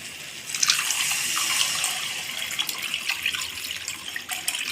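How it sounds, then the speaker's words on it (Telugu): A pot of water pours steadily into a cooking pot of softened tomatoes in a continuous gushing stream, close and moderately loud, with small splashes and no voices. "ఇందులో ఒక చెంబు వాటర్ పోతాం"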